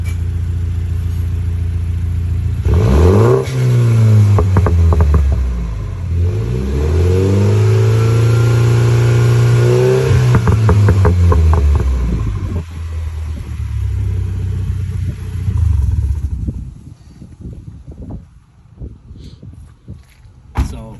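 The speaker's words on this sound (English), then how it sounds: "Went with the straight race exhaust onto it, so it's pretty much a straight pipe all the way back" A car with a straight-pipe race exhaust revs hard several times, its loud raspy note climbing and falling, then settles into a lower burbling rumble.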